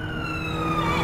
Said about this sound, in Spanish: Pinche ambulancia, en vez de que venga a ayudar, está matando a todos.